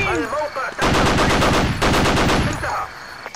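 Machine gun fire in the Black Hawk Down mod for Battlefield 2, two loud rapid bursts at close range separated by a short gap, with faint background noise before and after.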